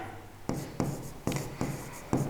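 Chalk strikes a classroom board during a geometry lesson, giving five sharp taps and short scratchy strokes in an uneven rhythm, close and moderately loud, with no voices.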